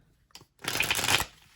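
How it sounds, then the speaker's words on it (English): A tarot card deck is shuffled up close, a short tap followed by a quick, crisp riffling burst of flicking cards lasting about half a second, then quiet. "I'm going to start shuffling"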